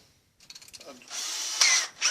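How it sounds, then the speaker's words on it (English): After a few quiet clicks, a power drill spins up and whirs steadily for about a second, rising briefly in pitch before stopping. "let's drill one hole down here."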